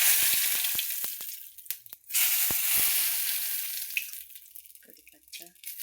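Curry leaves, cumin and mustard seeds hit hot oil, with a loud steady hiss, sharp crackles and pops, a brief pause, then renewed sizzling that gradually quiets, with a few faint clinks near the end.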